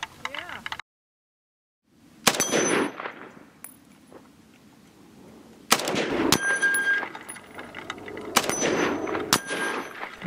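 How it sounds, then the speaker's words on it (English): An AK rifle fires at a stand of steel gong targets, with sharp shots followed by ringing metallic clangs in rapid bursts, and a brief near-silent gap early on. "My highly accurate AK really rang those gongs."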